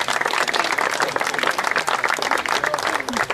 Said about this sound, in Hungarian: Most jöhet a nagy tapsvihar